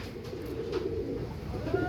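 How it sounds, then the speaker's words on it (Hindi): Soft, low cooing of a Dub pigeon repeats a few times close by, with faint rustling and background hum around the calls. "ये डब वाला कबूतर"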